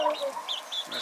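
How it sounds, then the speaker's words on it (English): A regular chicken on a homestead clucks in a quick series of close, bright calls over about a second, with no talk over it. "No, that's a regular chicken."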